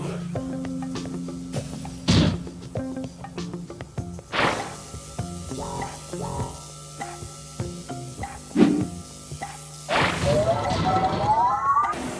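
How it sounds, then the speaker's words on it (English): Glass smashes in the video game Quantum Conundrum, several loud crashes and whacks spread across the stretch over a droning, tonal game background, ending in a rising whine. "Unfortunately, the breaking of this glass is a necessary evil."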